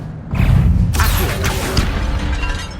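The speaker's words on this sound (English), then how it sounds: "Accio." Accio summoning spell in Hogwarts Legacy, a sudden swelling magical whoosh followed by a bright crashing impact and rumbling tail, loud and close over layered game effects.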